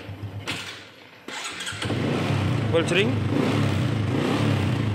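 A first-hand Honda Supra X 125 carburetor motorcycle with an original, still-sealed engine runs steadily nearby, its low idle rumble growing louder after a brief start, under someone talking throughout.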